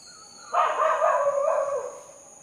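A neighbour's dog in Sri Lanka gives a sustained, wavering howl-like bark lasting about two seconds, fairly loud and near, over a steady high background hum, with no talk.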